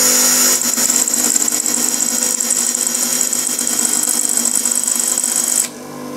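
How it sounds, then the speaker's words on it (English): An electric drill holds an HSS drill bit steady against a grinding wheel while it is shaped into a 1/8 inch end mill. It runs with a loud, steady whine for several seconds, then drops off sharply near the end. "Now what you do, start the drill up."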